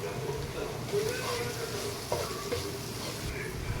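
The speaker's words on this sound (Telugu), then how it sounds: "తర్వాత కారం, ధనియాల పౌడర్, గరం మసాలా యాడ్ చేసుకొని బాగా మిక్స్ చేసుకోవాలి" Spoon stirring chili powder, coriander powder and garam masala in a pan for egg biryani with mixed vegetables, a steady soft sizzle with scraping strokes close by, a few sharper knocks.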